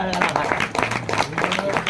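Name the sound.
audience applauding at the katha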